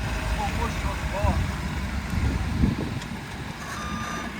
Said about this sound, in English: Oh, backup beeper, dude.